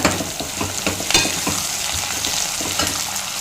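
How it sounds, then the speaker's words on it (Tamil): Loud sizzling and crackling of vegetables sautéing in a hot pan, with intermittent stirring scrapes and clatter, no talking. "இப்போ காய்கறி எல்லாம் சேர்த்துட்டு ஒன்று சேர வதக்கி விட்டுக்குங்க"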